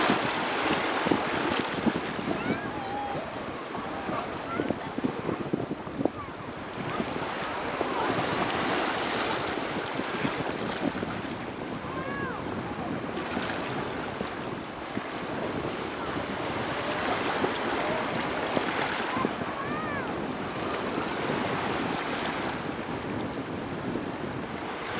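Ocean surf breaks and rolls in the shallows off Indian Rocks Beach near a sandbar. Loud, continuous wave wash mixes with heavy wind buffeting the microphone throughout.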